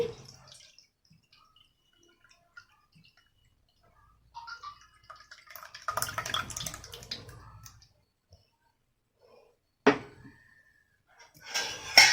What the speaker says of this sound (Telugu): ఇప్పుడు ఇందులోకి వడపోసేస్తున్నానండి.